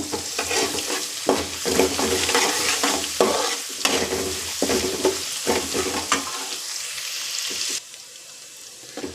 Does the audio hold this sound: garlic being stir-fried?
yes